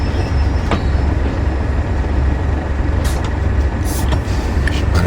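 Locomotives rumble along in the Train Sim World 3 railway simulator, a steady low rolling drone with brief hissing air-brake bursts and metallic squeals, no voices.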